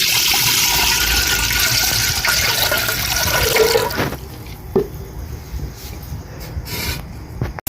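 Water poured from close by into a cooking pot set out for flour dough, a loud steady gushing rush for a few seconds that then thins to lighter splashing and trickles.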